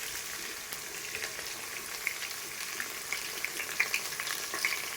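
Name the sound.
onions frying in oil until golden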